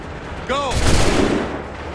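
A musket volley erupts in an Assassin's Creed III battle, a sharp burst of gunfire that tails off into rumbling echo. A shouted voice rings out briefly just before it, over a constant background din.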